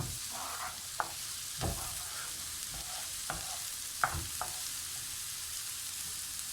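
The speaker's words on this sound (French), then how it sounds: "on fait revenir un petit peu, quelques minutes les oignons. Les fait rissoler." Onions sizzling steadily in a pan while being browned for lasagne, with a spoon knocking and stirring in several distinct scrapes over the continuous frying hiss, close up and with no voice.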